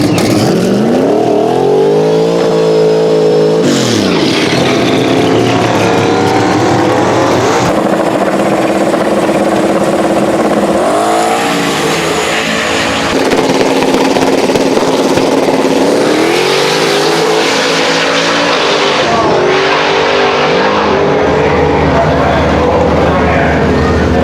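A Mustang drag car with a short block, ported 799 heads, truck manifolds and a Holley runs loud and close, its engine rising and falling through repeated revs, with people talking over it.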